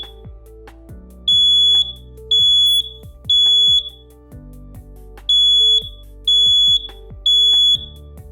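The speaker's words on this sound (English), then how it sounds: "So that was our smoke detector test." A DMP 1168 wireless smoke, CO and low-temperature detector sounds its alarm during a test, giving six loud, piercing beeps in two groups of three. Each beep lasts about half a second, and the beeps sit over a low background hum.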